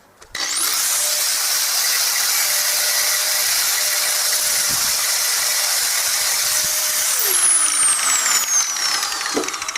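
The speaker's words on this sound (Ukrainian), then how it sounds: "Зараз буду трошечки доробляти болгаркою." An angle grinder whines loudly and continuously against a metal radiator grille for a ZAZ Tavria car, a harsh high-pitched grinding with the motor tone shifting as pressure changes.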